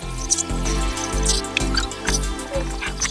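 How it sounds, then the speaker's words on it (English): Water dripping from a freshly washed air conditioner blower, a steady run of close, distinct drips falling at a fairly regular pace with no talk. "We'll just give it a few minutes, let the water drip."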